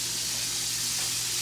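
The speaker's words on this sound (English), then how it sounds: "we have our steaks going. And if you can see here that they are sizzling" Steaks sizzling in a hot pan at a cooking demo, giving a steady, even hiss of frying that runs continuously and close up, with no voices over it.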